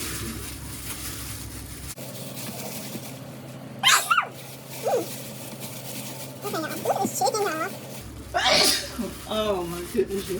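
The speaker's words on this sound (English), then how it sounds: "I'm really sneezing." Loud sneezes burst out twice, close to the mic, in a kitchen where chicken is being kneaded in a bag, with an air-conditioner hum that cuts out between them and some talking.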